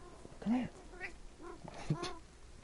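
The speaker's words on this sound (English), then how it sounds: "Oh god, that's my cat." A pet cat meows a few times close by, short rising and falling calls with gaps between them, fairly faint.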